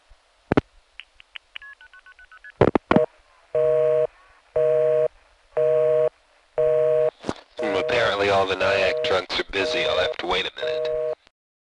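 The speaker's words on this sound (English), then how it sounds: "as in the following call to the 578 No. 2 ESS called at a time when our Nyack trunks are busy" Telephone call to a No. 2 ESS switch with the trunks busy: dialing tones and clicks give way to a loud repeating busy signal, even on-off beeps, then a voice talks over the tone before it resumes.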